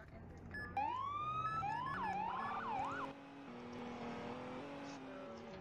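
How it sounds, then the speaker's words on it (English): A police siren wails and yelps in rising and falling sweeps, then cuts off, leaving a low engine hum. "So, I'm just gonna turn the sirens off here."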